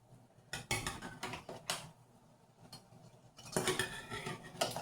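Eggs clink and knock against a metal pot of boiling water a few times, with a short pause between clusters of clatter.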